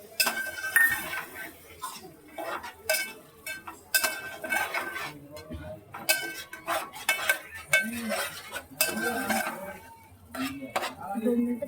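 Crab meat scooped from the shells goes into a pot and is stirred, a metal spoon scraping and clinking against the pan in irregular strokes, with a light sizzle underneath and no talk.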